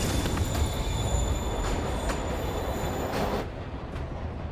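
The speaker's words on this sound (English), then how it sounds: "Train moving. Lee's getting away." A train rumbles along in the Spider-Man video game, a loud continuous roar with wheel squeal and faint rhythmic clacks, with no one talking, until the noise drops away near the end.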